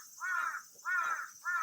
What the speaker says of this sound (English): these are the crows and the cicadas